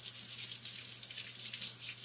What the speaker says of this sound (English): we are going to wash our sweet potatoes off. I want some cold water.